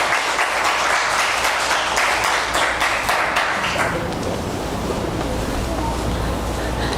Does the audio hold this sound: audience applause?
yes